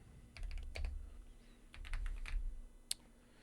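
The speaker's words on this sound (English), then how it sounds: "If I can type here." Fingers tap on a computer keyboard in quick, soft clusters of keystrokes with short pauses between, close but quiet in a calm indoor room, no voices.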